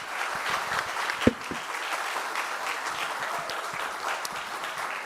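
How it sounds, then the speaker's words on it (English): An audience applauds a panel of four at a talk on banned books, the even, steady clapping filling the room for several seconds, with one sharp close knock early on. "Give our panel a round of applause, everybody."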